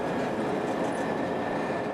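Train locomotive 475 pulls up on the main line of a heritage railroad, a steady broadband rumble and rolling noise with a faint high squeal, continuous and fairly close.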